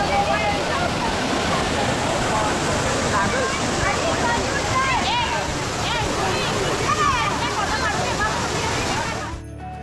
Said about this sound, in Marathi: आवाज बघितलात का धबधब्याचा? सॉलिड ना, पाण्याचा इतका आवाज प्रचंड.